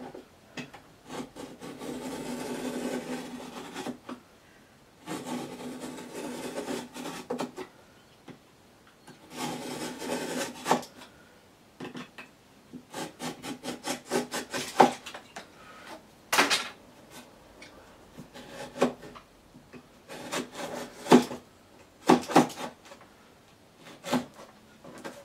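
MDF is scraped to make shavings in repeated rasping strokes and bursts separated by pauses, close and fairly quiet, with no talking.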